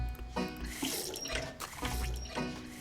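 Water poured into a cider machine in the Trailer Park Tycoon video game: a close splashing stream running like a tap, rising and falling in repeated pulses with gurgles throughout.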